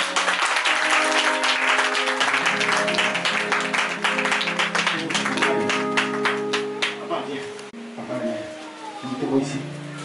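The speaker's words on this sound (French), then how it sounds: "On acclame très fort le Seigneur." A congregation applauds loudly during a Sunday church service, sustained dense clapping that continues for several seconds before thinning out, with voices and sustained tones mixed in.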